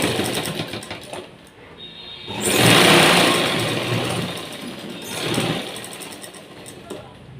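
A sewing machine stitches the rough edge of a blouse piece in a steady mechanical whir, with a louder, faster run in the middle and another surge near the end.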